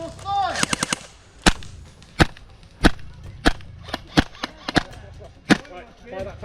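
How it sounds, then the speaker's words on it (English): Airsoft guns firing BBs at an outdoor meetup game: a quick rattling burst, then a steady series of sharp single cracks about every half second, with voices calling out between shots. "Fire BBs in a general direction."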